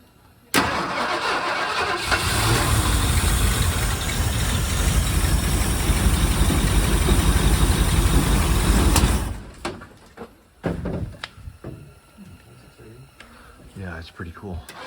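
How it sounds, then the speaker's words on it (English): A 1978 Ford Bronco barn find cranks and fires up, then roars with hard, sustained revving for several seconds before cutting off. Clattering handling noises and voices follow. "So we're gonna try firing it up and just revving the heck out of it,"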